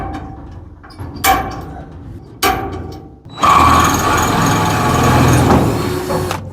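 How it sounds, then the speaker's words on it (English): A drill cuts a through hole in a 1999 Chevy S10 truck frame in a shop, a loud sustained grinding run of about three seconds following a few sharp clanks of metal. "Now we can drill a through hole."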